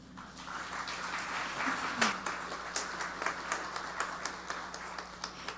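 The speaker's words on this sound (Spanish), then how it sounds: "Demos la bienvenida al magistrado Alejandro Magno González Antonio con un fuerte aplauso." An audience at a justice tribunal conference applauds to welcome a magistrate. The clapping swells into a moderate, fairly distant wash, then thins into scattered individual claps as it fades.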